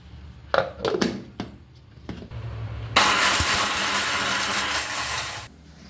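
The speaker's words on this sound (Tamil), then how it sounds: "இப்போ இதை வந்து நம்ம ஜாருக்கு மாற்றிட்டு அரைச்சிட்டு எடுத்துகிட்டு வரலாம்." After a few clattering knocks and taps, a mixer grinder jar whirs loudly for about two and a half seconds, grinding roasted garam masala spices into a harsh, steady roar that then cuts off abruptly.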